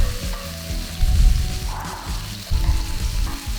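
Shallots sizzle in hot oil while being stir-fried for shrimp mi goreng, a steady close frying crackle that swells as they are tossed, with soft scraping of the stirring utensil.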